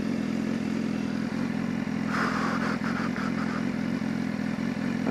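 A BMW S1000RR sport motorcycle engine drones steadily throughout with a brief rise in revs midway, wind rushing over it as it rides.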